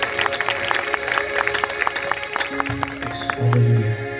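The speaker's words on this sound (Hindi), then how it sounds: "आपकी तालियों की आवाज बहुत कम है।" A church congregation claps, a dense crackle of many hands at moderate distance running under sustained tones, then tapering off near the end.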